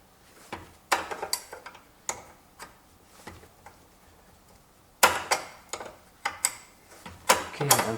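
A flare nut wrench ratchets a 10 mm brake hose nut, a series of close metallic clicks and ticks in uneven bursts, sparse at first, then denser and louder toward the end.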